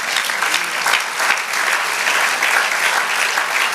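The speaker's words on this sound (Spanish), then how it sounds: "Dale aplauso al Señor." A church congregation claps for the Lord during a Spanish-language sermon, producing sustained, even, full-room applause without talk.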